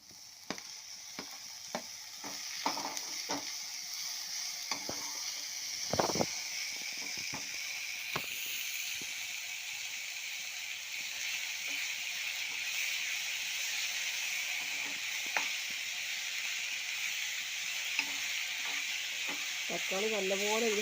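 Tomatoes frying in a hot pan, a steady close sizzle that runs the whole time with occasional stirring scrapes and clinks over it.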